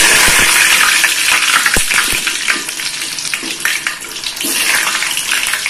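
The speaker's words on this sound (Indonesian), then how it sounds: "Jadi kita goreng dulu ubinya." Sweet potato pieces frying in hot oil over a moderate flame, giving a steady, close sizzling hiss with occasional crackles and a few soft clinks, with no talk.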